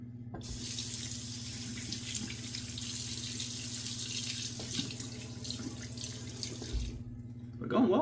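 Water runs steadily from a bathroom sink tap, with a constant broadband rush and a low hum beneath it, a few faint clinks, then it cuts off near the end.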